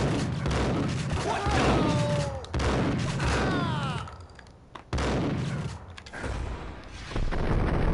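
Gunshots in the Max Payne video game crack out in several loud bursts among game sounds, with faint voice-like tones woven through the mix.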